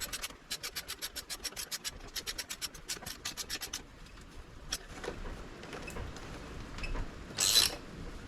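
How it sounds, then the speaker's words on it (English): A socket wrench ratchets a bolt into a bike peg, with a quick, even run of metallic clicks up close, followed by scraping and rubbing of the tool against the part. "You're going to flip the switch on the socket wrench right here. You're going to start just threading it in."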